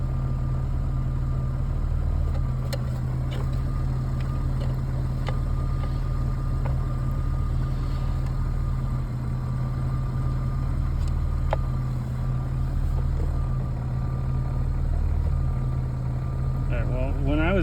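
A Honda EK Civic with a swapped J-series engine running steadily, a continuous low engine drone throughout without obvious rev changes.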